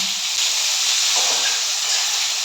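Cut potatoes and eggplant hit hot oil in a pan already tempered with black cumin and dried chili, producing a steady, loud, close hiss and sizzle that holds without pause.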